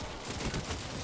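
Gunfire in a shooter video game comes as a dense, continuous burst of rapid shots, loud and harsh, filling the brief moment with no speech.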